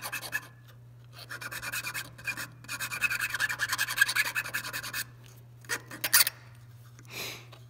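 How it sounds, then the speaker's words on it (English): Metal file rasping along the sides of a ring shank, close rhythmic scraping strokes in bursts with short pauses between them, alone over a faint steady hum. "all you're doing is just filing these sides, and you'll do this to both sides"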